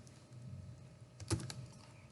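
Quiet keyboard typing during a coding session, a short run of soft clicks with one sharper keystroke burst near the middle, faint and alone.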